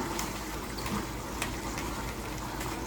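Water poured into a pot while making shepherd's pie, a steady gushing and splashing rush that stays even and fairly loud for a few seconds, with no talking.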